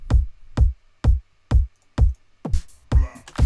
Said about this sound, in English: added a saturator, and together our kick sounds like this.